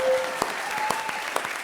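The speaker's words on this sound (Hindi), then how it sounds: "ठोको ताली।" Studio audience clapping during a Kapil Sharma comedy parody show, a steady wash of applause with a few sharper claps standing out.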